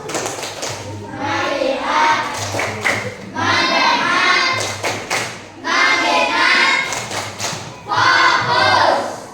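Schoolchildren perform the rhythmic "tepuk fokus" clapping routine in class, bursts of patterned group claps alternating with chanted voices in several loud phrases separated by short pauses.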